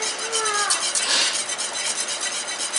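A pat of butter stirred into a prime rib glaze in a pan, giving a steady bright sizzle and scraping of the stirring utensil close to the mic, with no talking.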